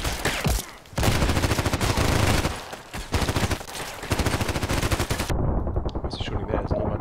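Rapid automatic gunfire from an RPK light machine gun in the online shooter Contract Wars, loud, close bursts running almost continuously with brief gaps, and a voice talks over part of it.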